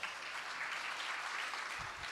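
An audience claps steadily at an All India Mushaira poetry gathering in Azamgarh, a continuous even wash of applause heard from a distance, with no voices over it.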